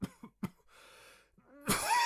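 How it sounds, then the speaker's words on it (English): An ogress coughs violently as an audiobook effect: a few rough hacks and a throat-clearing rasp, then a loud, strained hacking burst at the end, close and with no talk over it. "The ogress took a deep breath, and then began violently coughing."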